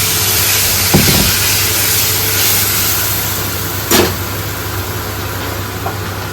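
Water splashed into a hot kadai while coriander roasts in a home kitchen gives a steady, close broadband sizzle and hiss over a low hum, with a couple of brief clatters along the way.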